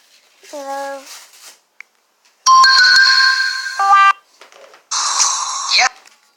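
A phone ringtone plays in loud bursts, a sustained electronic tone with a rising chime, broken by short gaps, with a voice mimicking the ring before it.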